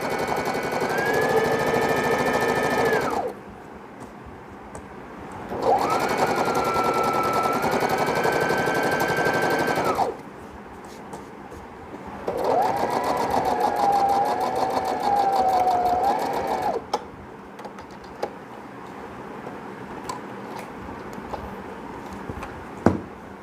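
A sewing machine stitching fabric for a washable breastfeeding pillow, running in three distinct whirring bursts separated by short quiet pauses, close and clear.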